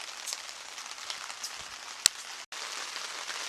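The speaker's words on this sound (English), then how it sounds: "That noise you're hearing is a little rain." Light rain patters steadily on a tent overhead, a soft hissing wash with scattered drops and one sharp tap partway through.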